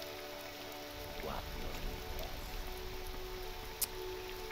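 Soft, steady rainfall in the game OpenMW patters in the background, with a faint voice murmuring under it and one brief sharp tick near the end.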